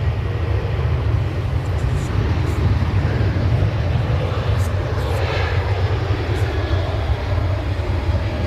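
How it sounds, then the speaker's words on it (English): A Ryanair airliner rolls down the runway on its take-off run at Manchester Airport, a loud steady engine roar with heavy low rumble sustained throughout, heard from a distance outdoors with no voices. "We've got Ryanair on the roll first. It's on the way to Marseille."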